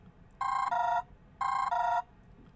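An incoming phone call rings on an Android emulator: two clear electronic ringtone bursts, each about half a second of two alternating tones, close and alone against faint background hiss.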